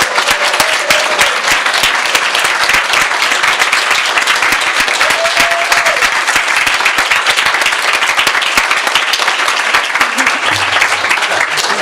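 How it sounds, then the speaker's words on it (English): An audience at a conference keynote gives loud, sustained applause, a dense even wash of many hands clapping that continues throughout without letting up. "So please join me in a massive round of applause, possibly a standing ovation if you are up for standing"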